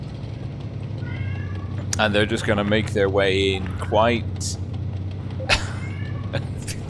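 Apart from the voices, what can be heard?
cats meowing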